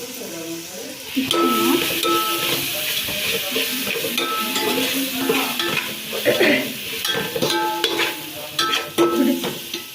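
Green chillies and ginger paste fry in a pan while being stirred for chicken joint biryani, giving a steady close sizzle with scraping stirs throughout.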